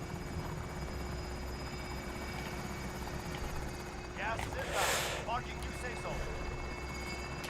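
Helicopter in an online shooter video game, a continuous rotor and engine drone sustained throughout at moderate distance, with players talking over it.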